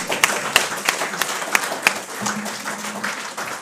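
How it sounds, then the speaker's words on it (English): Audience at a university awards ceremony claps for a research office team: a room of steady applause with a few sharp, louder individual claps standing out near the front, continuing throughout. "Please clap for them"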